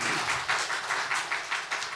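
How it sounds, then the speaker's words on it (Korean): A church congregation claps together in a short, fairly even burst, moderately loud and spread across the room, with no talking over it. "우리 감사의 박수, 격려의 박수 한번 할까요?"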